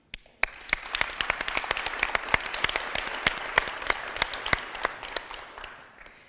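Audience applause at an international conference, a dense burst of many hands clapping that starts abruptly, holds steady with crisp individual claps, then thins out toward the end.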